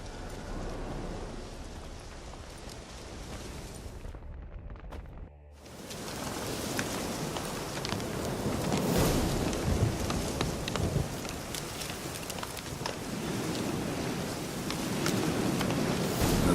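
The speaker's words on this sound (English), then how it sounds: "Looks like rain." Steady rain in The Witcher 3 video game pours over a wide soundscape with a low rumble like distant thunder and wind. It cuts out briefly, then returns and carries on.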